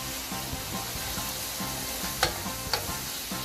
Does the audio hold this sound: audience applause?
no